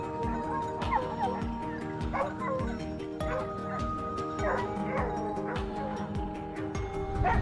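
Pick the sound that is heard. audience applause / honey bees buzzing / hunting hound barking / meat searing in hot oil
hunting hound barking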